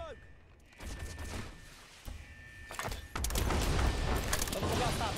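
Gunshots and heavy thuds in the shooter game Delta Force, scattered impacts building into a loud, continuous burst of fire toward the end, with a voice speaking briefly underneath.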